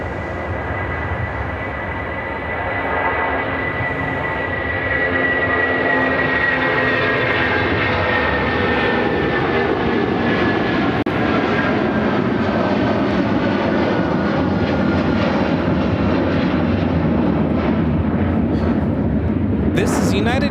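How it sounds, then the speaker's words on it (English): A United Airlines Boeing 757-200 takes off from Chicago O'Hare bound for Newark, a loud, steady jet engine roar that swells after the first few seconds and holds strong throughout, with people talking faintly underneath. "This is United Airlines 2654 taking off to Newark on the 757-200."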